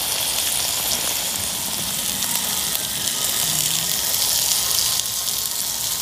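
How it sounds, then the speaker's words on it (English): Balsamic-glazed chicken skewers sizzle on a hot cooking surface, giving a steady, soft crackling hiss that runs evenly at moderate volume with no talk. "those will just sizzle away"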